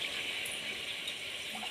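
Water pours steadily into a pot of lentils cooking for a winter sutriya dish, a continuous close splashing gush filling the whole short moment with no talking.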